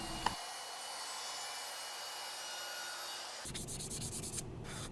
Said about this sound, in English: Once I have that sanded